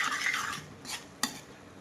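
Masala roasting in oil for a spinach bhaji, with spoon stirring and scraping against the pan over a low sizzle, ending in a couple of sharp clinks up close; no one speaks.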